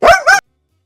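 A pet dog at home gives two quick, loud barks close by, back to back, then falls silent.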